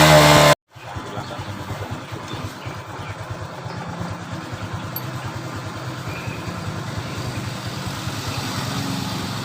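A 2018 Honda Supra X 125 motorcycle, which had been stalling suddenly while riding, starts up with its spark plug cap and cable refitted and settles into a steady, moderately loud idle that runs without interruption, with no one talking.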